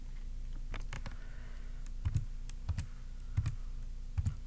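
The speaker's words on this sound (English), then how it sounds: "Trying to type gingerly so it doesn't make a whole lot of noise in your ear." Soft, scattered keystrokes tapping on a Dell Latitude 3300 laptop keyboard, a handful of light clicks in irregular rhythm over faint background hum, close by.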